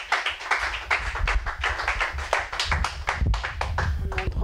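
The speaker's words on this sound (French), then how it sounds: "Acclamons pour le Seigneur" A church congregation at a healing vigil clapping steadily in rhythm with cheering and voices mixed in, loud and close throughout.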